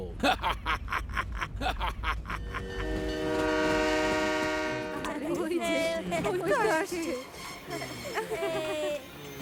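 A train in an animated cartoon rumbles along with a rhythmic clatter, then a long loud horn blast sounds, followed by cartoonish voices and laughter over the fading rail noise.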